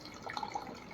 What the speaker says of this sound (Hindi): अब अंश पानी भरेगी ठंडा ठंडा